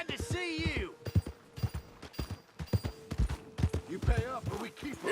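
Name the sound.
horse hooves clip-clopping in the video game Red Dead Redemption 2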